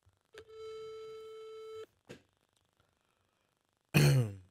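A single electronic telephone ring tone sounds on a call line for about a second and a half, followed by a short breathy throat-clearing noise and, after a pause, a louder cough or sigh.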